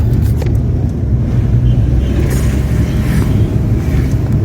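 A car drives along a road, heard as a steady, close engine and road rumble from inside, with no clear change in pitch.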